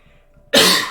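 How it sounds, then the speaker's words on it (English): After a near-silent moment, a single sharp, loud cough bursts out close by. "I'm sorry about the coughing."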